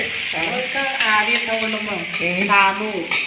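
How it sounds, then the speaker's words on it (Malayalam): A spoon works through taro stem stir-fry in a pan with quick scraping strokes and a light sizzle, heard up close with no talking. "നമുക്ക് എല്ലാം കൂടി ഒന്ന് ഇളക്കി യോജിപ്പിച്ച് കൊടുക്കാം"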